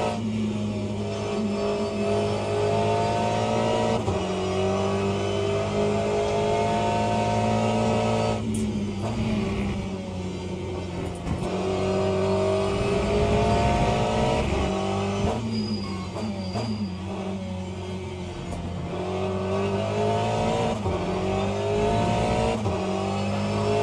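Race car engine in the sim racing game Le Mans Ultimate, lapping the Circuit of the Americas (COTA), holds a loud, steady drone with rising and falling revs through gear changes and corners. No one speaks.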